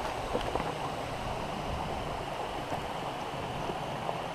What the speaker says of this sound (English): I'm getting closer to the second larger waterfall.